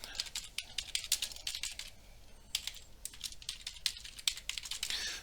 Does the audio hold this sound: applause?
no